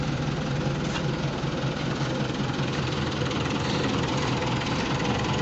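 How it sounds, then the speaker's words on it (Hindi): A tractor engine idles steadily after starting, a continuous low rumble with a faint knocking pulse, fairly close and alone with no talk. "ट्रैक्टर चक्या गया"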